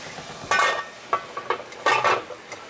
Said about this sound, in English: I'll put a lid on it.